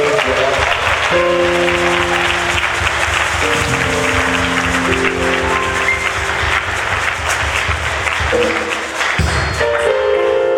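A large crowd applauds and cheers throughout an evening worship gathering at an international youth convention in Abomey-Calavi, Benin, loud and sustained, with music playing underneath.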